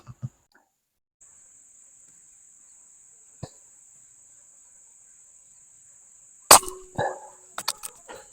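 An air rifle fires a pellet (Pakistani-made MHF pellets): a sharp, loud crack near the end followed by brief clattering transients, with a faint click earlier over a steady thin background whine.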